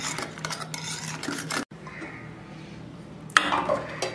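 A spoon stirs a mixture into curd in a bowl for curd idli, giving close scraping and clinking against the vessel, with a brief pause and a sharper clatter near the end.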